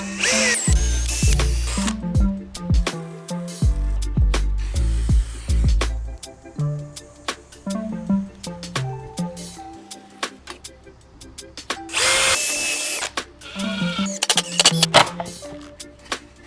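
A power drill whirs in several short bursts with pauses between, close by, mixed with clicks and handling noises, drilling holes for French cleat tool storage and through rubber feet.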